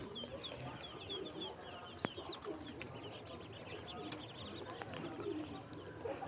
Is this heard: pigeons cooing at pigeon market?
yes